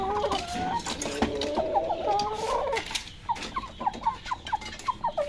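Chickens clucking and calling close by as grain is scattered for a pet rooster named Shaka and his hen, with busy overlapping cackles first and then short rhythmic clucks.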